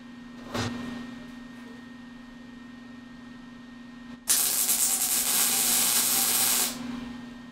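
Welding spark plugs together for scrap metal art, with a steady crackling hiss lasting a couple of seconds over a constant low electrical hum, close by and without talk.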